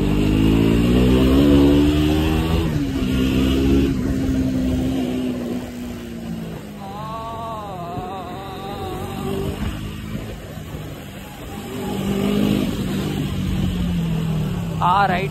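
A KTM Duke 200 motorcycle engine revs on a test ride, loud and close, its pitch swinging up and down through repeated throttle bursts with a voice briefly heard.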